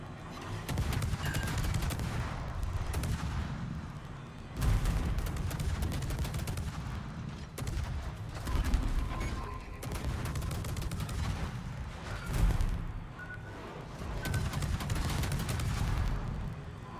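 Naval gunfire in a warship video game, heavy booming salvos repeating every few seconds over a continuous rumbling battle din, loud and close with no speech.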